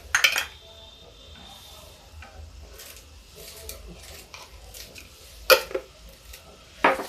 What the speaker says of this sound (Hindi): ये सारे मसाले भून लेते हैं और इसमें कश्मीरी मिर्च थोड़ी सी डाल देते हैं।